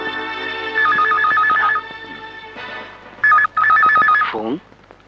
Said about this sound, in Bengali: ফোন।